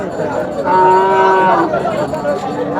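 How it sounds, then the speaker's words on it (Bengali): Cattle low loudly and close by at the Ratankandi cattle market in Sirajganj, with one long, drawn-out moo rising over the busy background of the market. "দেখানোর চেষ্টা করতেছি বিভিন্ন ধরনের গরু"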